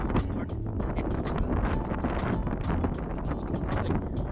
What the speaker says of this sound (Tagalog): medyo mataas na yung hangin